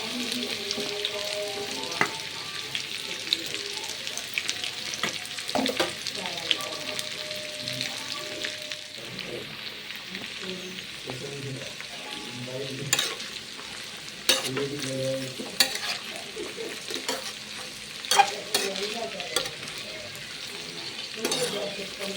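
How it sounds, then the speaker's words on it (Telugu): Okra pieces and peanuts fry in hot oil over a medium flame, giving a steady close sizzle broken by occasional clinks and scrapes of stirring. "పల్లీలు ఫ్రై అయ్యాక మనం కట్ చేసుకున్న బెండకాయ ముక్కలను కూడా ఆయిల్లోకి వేయండి."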